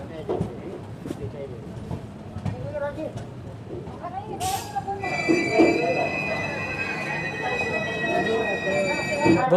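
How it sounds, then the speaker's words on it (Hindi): Shri Ganganagar - Kochuveli Express pulling into Suratgarh Junction: low rumble and clatter of the train, then a sharp hiss and a sustained high whistling brake squeal as it slows, with voices in the background. "दोस्तों हमारी ट्रेन आ चुकी है सूरतगढ़ जंक्शन पर"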